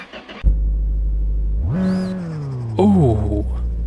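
A modified mini truck engine starts with a thump and idles, then revs up twice in loud rising-and-falling surges that settle back to idle, close by.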